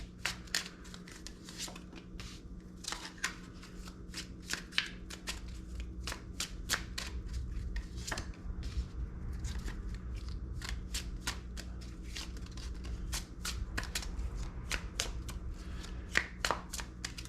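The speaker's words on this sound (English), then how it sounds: "I'm gonna go ahead and just shuffle quickly, lay the cards out" Cards being shuffled up close: rapid riffling bursts and soft flicks repeating irregularly over a quiet room hum, fairly faint, with no speech.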